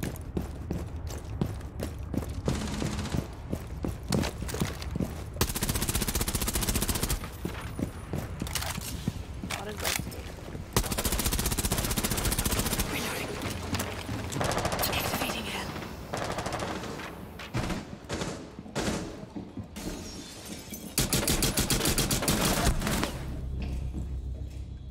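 Video game gunfire rattles almost continuously in dense rapid bursts, loud and close, broken by brief pauses and occasional mechanical clicks.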